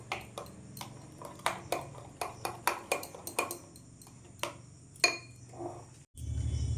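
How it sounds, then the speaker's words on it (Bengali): A spoon clinking against a bowl while mixing mango sandesh mixture with a few drops of food colouring: a run of sharp, irregular clinks and taps close by, ending in a low steady hum. "এবার ভালো করে মিশিয়ে নেব।"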